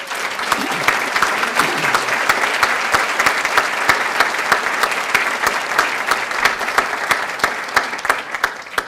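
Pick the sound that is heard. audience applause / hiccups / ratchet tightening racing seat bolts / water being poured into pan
audience applause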